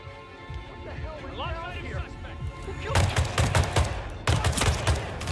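Rifle gunfire in a nightclub-set video game rings out in rapid bursts, loud and close, with a voice and music-like tones running under it.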